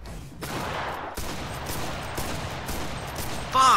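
Repeated gunfire in a console video game, a rapid, loud burst of overlapping shots that runs almost without pause for several seconds.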